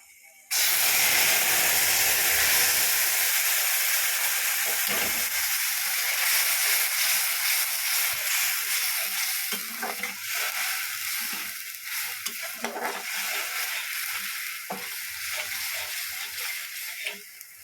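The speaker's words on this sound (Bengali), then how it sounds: "তেলের মধ্যে বাটা মশলাগুলো দিয়ে দিলাম" Ground spice paste hitting hot oil in a pan while cooking a rohu fish chili curry, a loud, bright sizzle that bursts in at once and keeps hissing steadily, easing slightly while crackling and stirring continue close up.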